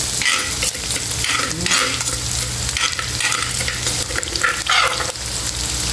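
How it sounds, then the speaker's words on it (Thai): Fresh spice paste for pork laab stir-fried in a pan with fried garlic, a steady close sizzle broken by repeated scraping strokes of the spatula, with no voices. "ผัดเครื่อง"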